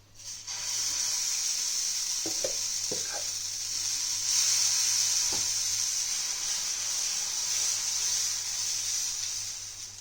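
Dosa batter poured onto a hot griddle, a sudden loud steady sizzle that fills the space, with a few soft knocks and scrapes near the start, close and without talk.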